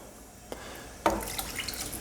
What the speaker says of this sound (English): we're going to add water. There's 1 cup